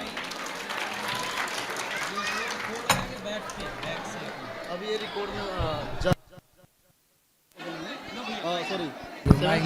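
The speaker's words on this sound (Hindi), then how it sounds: "तालियां बजाइए।" Loud, dense applause from a crowd at a Hindu religious discourse, with busy voices mixed in, cutting off briefly to near silence before the noisy clapping and cheering resume.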